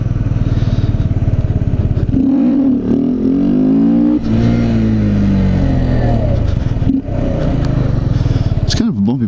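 A Honda Z125 motorcycle with its stock exhaust idles and revs up and down in a parking lot, engine pitch rising and falling through several throttle blips, loud and close, with wind buffeting.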